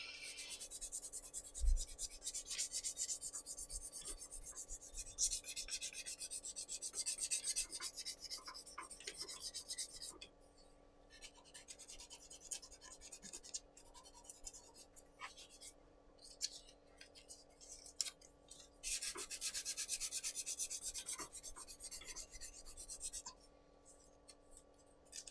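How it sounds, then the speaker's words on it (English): A wooden pen is hand-sanded with 240 grit sandpaper to remove tool marks, giving quiet, steady rasping strokes in long bursts with short pauses between them. "So this is basically the first stage of sanding the pen. 240 grit, just getting rid of all of the major tool marks."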